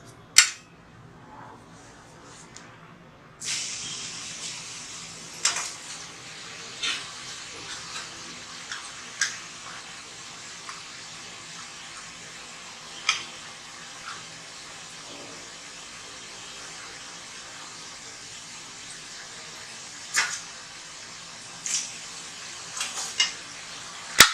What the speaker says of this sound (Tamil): இப்போ எண்ணெய் காஞ்சிடுச்சு, நம்ம வந்து சுட்டுக்கலாம். இதுவும் வந்து மீடியம் ஃப்ளேமில் வச்சுக்கோங்க.